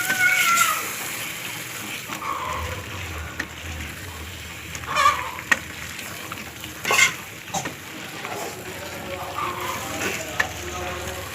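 Pointed gourd korma stir-fried in a pan, a steady background sizzle with intermittent scraping stirring strokes and a few louder clatters, close and without talk.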